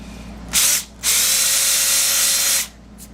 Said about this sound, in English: Now I've got just a countersink bit here